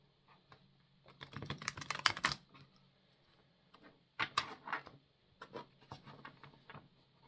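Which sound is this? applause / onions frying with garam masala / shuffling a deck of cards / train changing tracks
shuffling a deck of cards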